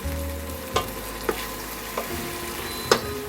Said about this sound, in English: Keep stirring to avoid getting stick into the pan